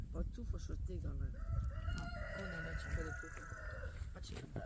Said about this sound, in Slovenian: Petelin se razburja.